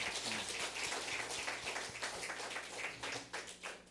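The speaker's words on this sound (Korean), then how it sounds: "박수로 감사를 드리겠습니다." A church congregation applauds during a Sunday worship service, a dense burst of many hands clapping together that carries on steadily without speech.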